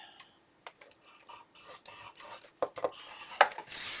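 Paper being scored with a scoring tool for a Graphic 45 scrapbook album, heard as a series of short, close scraping and rubbing strokes with quiet gaps between them.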